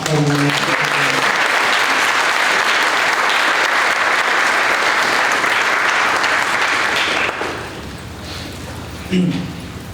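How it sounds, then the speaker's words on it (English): Conference audience at a Long Beach keynote breaks into loud, dense applause that holds for several seconds, then drops away as a voice begins speaking briefly near the end. "Give another round of applause."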